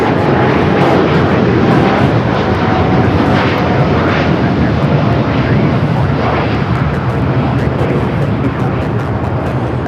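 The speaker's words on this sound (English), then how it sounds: "Sun Country 737-800 heading to one of the FBOs here on the south." A Sun Country Boeing 737-800 taxis toward an FBO on the south side at LAX, giving a loud, steady, broadband engine roar with no break across the whole stretch.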